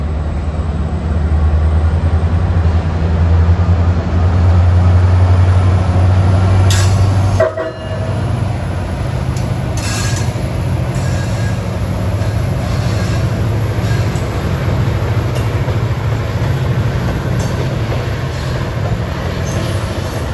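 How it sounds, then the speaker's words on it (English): Amtrak-style passenger train 890, Washington, D.C. to Perryville, Maryland, hauled by an MP36PH-3C locomotive: a loud, close engine rumble and rolling clatter, with a horn toot midway, then a continuing roar of cars passing. "this is train 890 from Washington, D.C. to Perryville, Maryland on the corridor"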